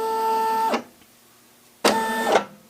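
An embroidery machine tracing a design outline runs in two loud, close bursts of steady motorized whirring with a pitched hum, separated by a quiet pause of about a second.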